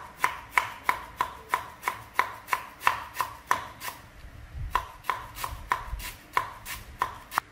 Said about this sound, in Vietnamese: cái món này là anh phải băm xả nhỏ nhá